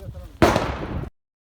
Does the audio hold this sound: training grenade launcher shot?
yes